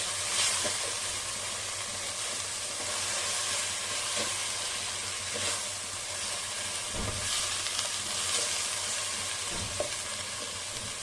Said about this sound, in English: And start stirring it.